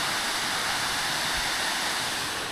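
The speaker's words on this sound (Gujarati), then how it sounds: "નદી છે આ." A river flows below a dam in Gujarat, a steady, close rushing of water that holds an even level throughout with no voices.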